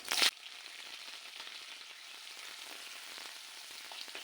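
Chopped green chillies and onions hit hot oil in a pan with a sharp initial splash, then settle into a steady, soft sizzle that continues evenly without any talking.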